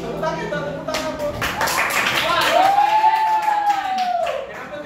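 Students in a classroom clap their hands together in a burst of rapid, overlapping claps, while a teacher's voice talks over them.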